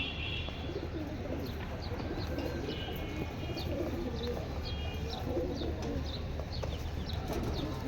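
A pair of grizzle racer pigeons, a hen and a cock, coo softly and steadily in a busy loft, with chirps and other bird calls mixed through a constant background hum.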